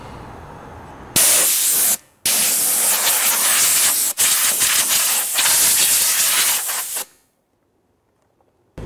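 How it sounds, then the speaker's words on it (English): Three loud bursts of compressed air from an air compressor blowing dust out of a dusty Dell Inspiron 570 desktop computer, each a harsh close hiss separated by brief gaps, ending in near silence. "Nothing a little blast from our air compressor can't fix."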